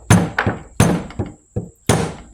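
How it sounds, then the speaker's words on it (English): A rubber mallet taps a Nissan Xterra or Frontier wiper arm six times in an uneven rhythm, each blow a close, dull thunk that dies away quickly. "I'm just gonna take a little rubber mallet and just give it a tap"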